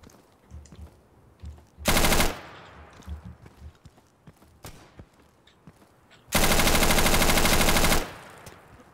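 Two loud bursts from an M249 SAW machine gun fired from the hip in the shooter Insurgency, one short and one long and sustained. Quieter distant gunfire and scattered shots fill the gaps between them.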